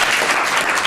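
An audience claps steadily in a room, a dense, even round of applause lasting under a second.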